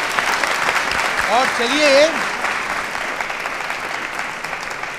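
A quiz show audience at an engineering institute applauds steadily throughout, a dense wash of hand clapping from a crowd, while a host speaks briefly over it near the middle.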